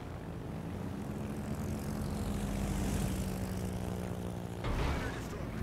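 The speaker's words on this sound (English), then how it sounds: "He's got his torpedo bombers out here. The fairy spearfish." Fairey Spearfish torpedo bombers in the World of Warships game drone overhead as a steady propeller-engine hum, swelling slightly mid-pass with a brief louder surge near the end, mixed under game sound.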